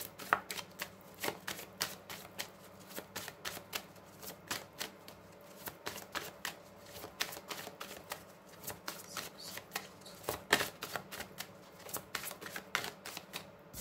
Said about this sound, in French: on va commencer avec le petit Lenormand pour votre tirage du mois en 9 cartes